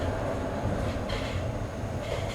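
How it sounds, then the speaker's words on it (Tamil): The Ernakulam to Karaikal Ernakulam Express passes close by, a loud, steady rush of wheels and rail noise with a brief swell of rattling midway through, and no one speaks over it. "எர்ணாகுளம் டு காரைக்கால் போகிற எர்ணாகுளம் எக்ஸ்பிரஸ் தான் நம்ம இப்போது கிராஸ் ஆகிட்டுருக்கோம்."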